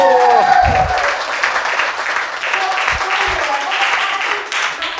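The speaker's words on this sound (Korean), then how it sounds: "완전히 박수" An audience claps during a humanities lecture, a steady smattering of applause mixed with voices and chatter throughout.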